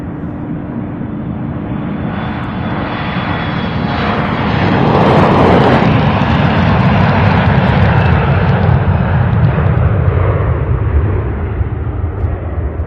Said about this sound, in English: Here we have those two MD-11s right there.